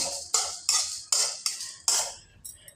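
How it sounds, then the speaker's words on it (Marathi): A metal spatula clanks and scrapes in a pan while garam masala roasts with dry coconut for an onion-coconut masala paste. About seven sharp, evenly spaced knocks ring out up close, with no voices. "आता हा आपण गरम मसाला टाकू. हा पण भाजून घेणार आहोत"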